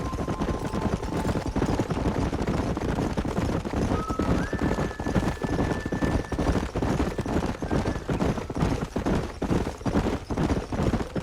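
Horses gallop in Red Dead Redemption, a steady clip-clop of hooves running continuously and loudly throughout, with a whinny and other game sounds mixed in.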